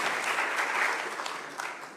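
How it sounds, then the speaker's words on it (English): An audience claps at a county commission meeting, a brief burst of applause that fades gradually over two seconds, moderately close with no speech. "I just ask everyone if we'll hold our applause"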